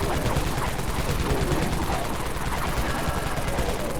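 The Dawn Minigun in the zombie shooter Dead Frontier fires without pause, an unbroken, loud, rapid stream of gunshots blurring into a continuous roar for the whole stretch.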